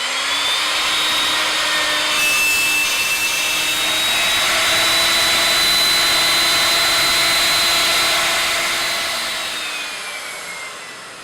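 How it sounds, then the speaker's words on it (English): A router cutting a 6mm deep rebate in a panel, guided by a jig clamped to a batten on a workbench, whines steadily and loudly for about eleven seconds with a high pitch that shifts slightly, then winds down at the end. "Make sure the jig is securely clamped to the batten on the workbench and that the router is set to cut a 6mm deep rebate"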